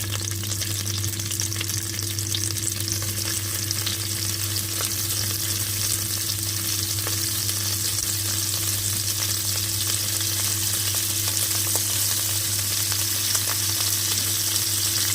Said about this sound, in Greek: Τώρα θα τηγανίσω και τις υπόλοιπες.